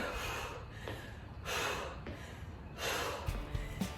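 Two or three strong breaths out from someone exercising with hand weights, each a broad, airy exhale that recurs in a loose rhythm and sounds close, with no talking.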